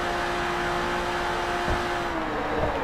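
A race car engine in Forza Motorsport 3 holds a loud, steady, close drone under acceleration, its tone slowly climbing with a couple of brief thumps, no talk over it.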